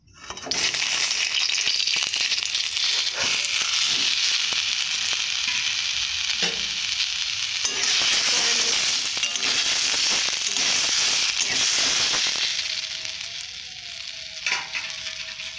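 Boiled amla and two green chillies sizzle loudly in a little hot oil in a pan, a steady dense frying hiss running throughout with occasional stirring scrapes, easing slightly near the end.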